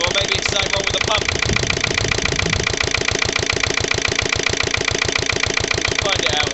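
Lister LD1 single-cylinder diesel engine running steadily at close range, with an even rapid thumping beat and mechanical clatter throughout; the engine is suspected of a fuel line airlock or pump fault.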